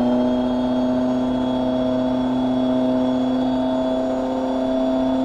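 Video game car engine revved hard during an engine test, a loud steady sustained drone with strong whining harmonics, held alone without talk.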